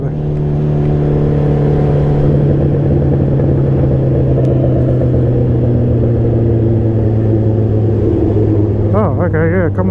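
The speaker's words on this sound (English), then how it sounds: "Engine braking on this bike is crazy." A motorcycle engine braking with a loud, steady, low rumbling drone and sustained harmonic tones throughout, recorded close while riding, with brief rushing noise near the end.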